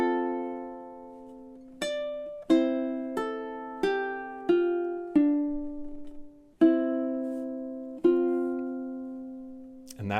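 A solo ukulele plays the final two bars of a tune, about eleven clean plucked notes and chords, each ringing and decaying, with a closing strum.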